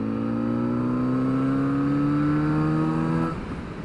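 Kawasaki Z900RS four-cylinder motorcycle pulling away in fifth gear from very low revs, a steady, loud engine drone with rising harmonics that builds for about three seconds before easing off.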